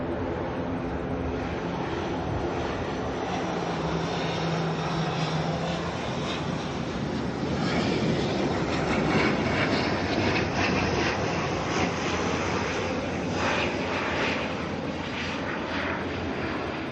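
An ATR turboprop airliner arriving from Napier at Auckland Airport, its engine drone steady and broad, swelling slightly louder midway as it draws nearer, with no talking.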